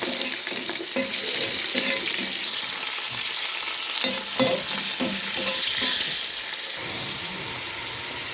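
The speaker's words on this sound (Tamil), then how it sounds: "கருவேப்பிலை கூட வெங்காயம் சேர்த்துருக்காங்க" Onions and curry leaves frying in hot oil for crab curry give a dense, continuous sizzle up close, broken by repeated scraping stirs of a spoon against the pan.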